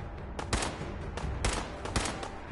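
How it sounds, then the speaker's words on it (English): Pipe rifle gunfire in Fallout 4, several separate sharp shots spaced roughly half a second apart, moderately loud over a low background rumble. "I'm gonna go at this shit with a pipe rifle."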